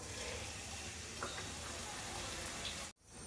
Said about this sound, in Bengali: এবার লুচিগুলো এক এক করে ভেজে নেব।